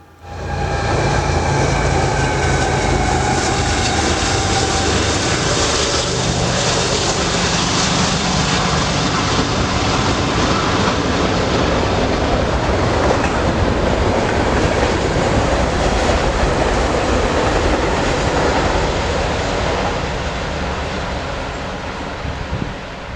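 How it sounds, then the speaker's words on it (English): A fast intermodal freight train roars past at roughly 60 mph in Galesburg, Illinois, a loud, steady rush of wheels and wind that holds for the whole stretch and eases slightly at the end, with no talk. "This intermodal has to be doing at least 60 miles per hour."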